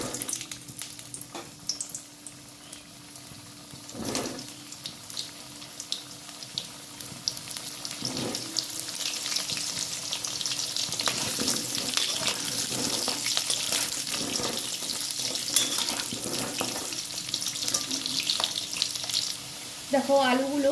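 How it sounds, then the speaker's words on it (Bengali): Potato pieces dropped into hot oil in a pan sizzle and crackle steadily for about twenty seconds, the frying growing louder and denser after the first few seconds, with a few clinks of utensils. "তেল গরম হয়ে গেছে, দিয়ে দেবো আলু।"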